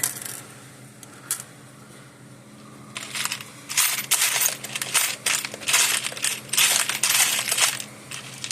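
Small metal washers clink and rattle into place during a Zareba 200 Mile electric fence charger repair, a run of bright, close metallic taps clustered in bursts after a quieter stretch.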